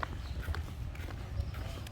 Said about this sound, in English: You see the horses there in front?